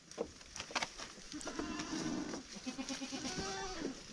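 Goats bleating inside a goat shed, several close, wavering bleats in quick succession over a few seconds, fairly quiet overall.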